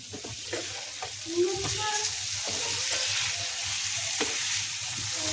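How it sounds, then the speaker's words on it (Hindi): Spiced taro root (arbi) is stirred in a frying pan over low heat, a steady soft sizzle under repeated scraping and stirring strokes, close and moderately loud with no talking. "अच्छे से इसको मिक्स कर दीजिए, मसाला ऊपर सब लग जाए घुइयाँ पे।"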